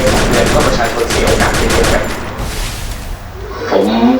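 Rapid automatic gunfire in the Free Fire battle royale video game, dense loud bursts of rattling shots for about two seconds, then a short lull before more fire, with a voice talking over the game audio.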